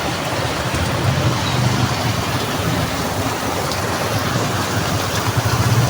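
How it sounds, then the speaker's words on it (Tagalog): Heavy rain pours down in a dense, unbroken hiss that fills the space evenly and steadily, with a low rumble beneath and no voices. "Ang lakas ng ulan mga idol."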